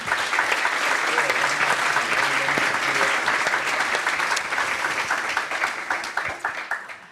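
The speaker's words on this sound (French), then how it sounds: "Et ben voilà, on peut les applaudir." Steady audience applause fills a conference hall after a talk on sustainability reporting and strategy, a dense wash of many hands clapping that holds level before thinning and tapering off in the last second.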